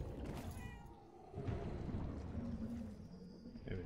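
A cat meows inside the video game Murdered: Soul Suspect, a short, fairly clear call rising over steady low game ambience and hum.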